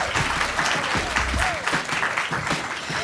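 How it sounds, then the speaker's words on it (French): Audience applause for named guests on a podcast recording, a close, busy patter of clapping with voices calling and whooping over it throughout. "On peut les applaudir"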